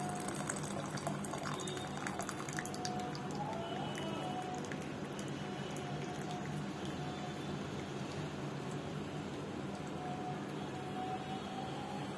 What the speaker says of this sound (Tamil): இப்போ இப்படியே வடிச்சிருங்க. குச்சியெல்லாம் வராம பாத்துக்கோங்க.